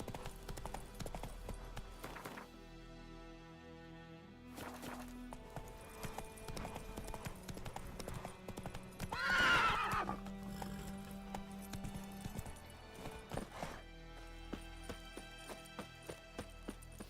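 Roach, Geralt's horse in The Witcher 3, clip-clops along at a trot with steady hoofbeats and gives a loud whinny partway through, set against game ambience and music.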